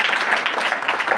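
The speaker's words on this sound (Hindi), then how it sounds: "ताली बजाकर परमेश्वर को स्तुति करें।" A short burst of congregation clapping in praise during a Hindi church service, brisk and fairly close, lasting only about a second.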